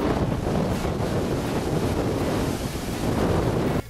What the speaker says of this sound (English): We take a few moments to watch the surf break on these rocks.